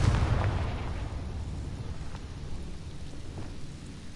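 A Confringo blasting spell explodes in Hogwarts Legacy with a deep, booming blast that peaks at the start and then fades into a long rumbling tail.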